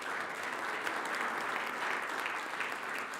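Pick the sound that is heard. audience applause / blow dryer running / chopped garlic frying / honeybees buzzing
audience applause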